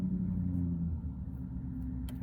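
A car rumbles along with a deep, steady low drone heard from inside, the tone shifting slightly as it drives, with no talking.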